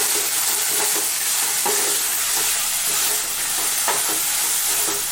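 Onions sauté in a pan in a home kitchen, giving a constant bright sizzle and hiss as a spoon stirs and scrapes through them at intervals, with no talking.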